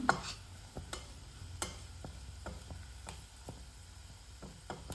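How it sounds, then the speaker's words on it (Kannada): A spoon stirs garam masala into a frying prawn curry masala, giving repeated sharp scraping clicks against the pan at an irregular pace over a steady low sizzle. "ಒಂದು ಅರ್ಧ ಸ್ಪೂನಷ್ಟು ಗರಂ ಮಸಾಲ, ಇಷ್ಟು ಹಾಕಿ ಕಲಿಸ್ಕೊಂಡು"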